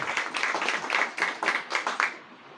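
An audience at a business seminar breaks into brief applause, a short, fairly close burst of quick rhythmic hand claps that thins out after about two seconds.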